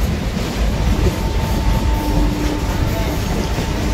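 A Kolkata circular local train rolls into Patipukur station on the Sealdah division line, a loud steady rumble of wheels and carriages with faint clatter and a thin squeal, heard from on board.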